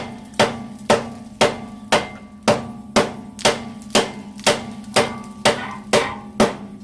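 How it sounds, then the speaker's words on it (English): A hammer striking a car ball joint during a front suspension overhaul on a 1998-2002 Honda Accord, thirteen sharp metallic whacks at a steady, even rhythm, close and loud with a ringing decay after each hit. "when I hit it with a hammer to get this ball joint to pop up"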